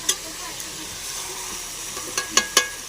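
Ginger dropped into chicken frying in oil in a pan, a steady soft sizzle with a few sharp stirring clicks and scrapes near the end.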